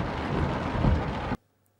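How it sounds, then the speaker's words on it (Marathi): Heavy rain pouring in Pune during flooding, a dense roaring downpour for over a second before cutting off abruptly into silence. "गेल्या काही तासापासून पुण्यात मुसळधार पाऊस बरसलेला आहे"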